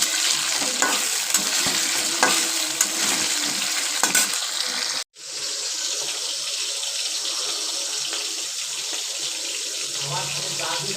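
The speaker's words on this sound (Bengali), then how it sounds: "আর এই যে এদিকে আলু হচ্ছে ভাজা।" Potatoes frying in oil in a home kitchen pan give off a steady, loud broadband sizzle with light stirring scrapes, broken by one brief dropout halfway through.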